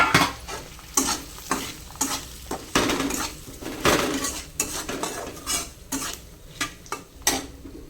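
Potato and soybean curry stirred and fried in a pan, with repeated sharp metal spoon scrapes and clinks against the pan over a steady low sizzle, close and fairly loud, no talking.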